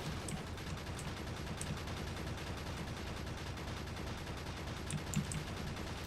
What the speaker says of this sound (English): the auto gun turrets will do my work for me